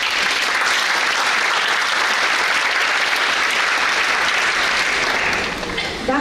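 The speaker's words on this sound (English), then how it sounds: "Let's give her a big round of applause." Sustained audience applause at an awards ceremony for scholarship recipients, steady and dense clapping from a large indoor crowd for about six seconds before easing slightly at the end.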